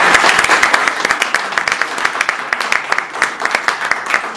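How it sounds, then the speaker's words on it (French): Audience at a Paris press conference for Werrason claps together, a lively, fairly close burst of applause with distinct individual claps forming a quick, uneven rhythm throughout. "Est-ce qu'on peut s'applaudir s'il vous plaît?"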